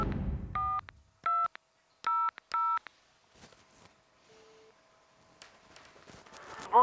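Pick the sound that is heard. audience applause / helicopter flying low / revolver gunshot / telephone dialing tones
telephone dialing tones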